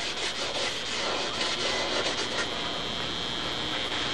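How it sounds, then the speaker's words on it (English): Light hand sanding with M600 and 1200 grit sandpaper on a painted surface, a steady close rasping rub that continues without pause throughout. "Now I'm going to sand this area real lightly."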